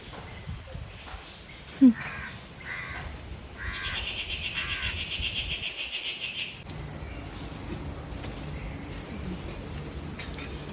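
Birds call outdoors, with a few harsh cawing notes early and a steady chorus of chirping birds filling the background.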